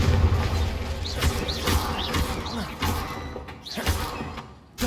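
A Confringo blast spell in the Hogwarts Legacy video game, heavy thuds and crashing bursts repeating over a busy, loud background, with voices speaking around the impacts.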